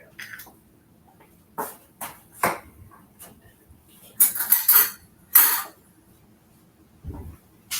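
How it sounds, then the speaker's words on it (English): A spoon scoops ice cream into a cold soda-fountain drink, giving a few close, sharp clinks and scrapes against a glass, spaced irregularly with quiet gaps between. "one of the suggested ways to serve this was to add a scoop of ice cream. So I'm going to do that."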